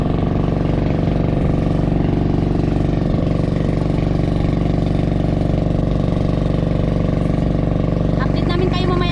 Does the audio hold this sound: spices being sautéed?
no